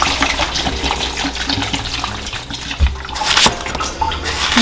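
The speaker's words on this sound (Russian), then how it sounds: "Пока вода наливается." Tap water runs steadily into a cooking pot on a home kitchen stove, a continuous hissing splash with a small clunk midway, heard close and alone.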